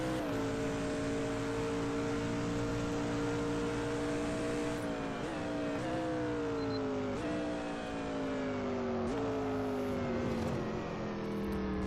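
V8 GT3 race car engine in a racing game at Suzuka, a loud sustained roar that climbs through the revs and drops sharply at several gear shifts, close and continuous.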